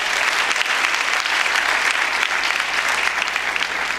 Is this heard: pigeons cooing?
no